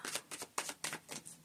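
Tarot cards shuffled by hand, quiet and close, in a quick run of about seven short papery riffles with brief gaps between them.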